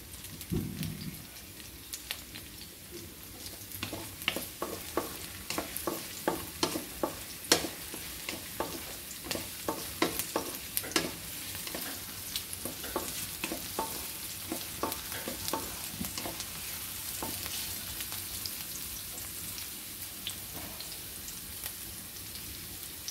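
Garlic sautés in a pan as the base for fish adobo, with a quiet, steady frying hiss and a run of quick scraping stirs and taps in the first half. The stirring then fades to a low sizzle, with no talk.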